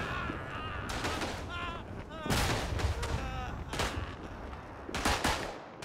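MP18 submachine gun fire in the World War I shooter Verdun, set in a Vosges trench fight: repeated bursts of gunfire and distant artillery rumble across the battlefield, with a voice talking over it.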